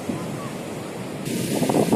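Waves wash onto a west-facing beach at Pangandaran, a steady rushing surf that swells louder toward the end, with wind buffeting the microphone.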